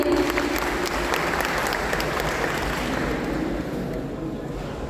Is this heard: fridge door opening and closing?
no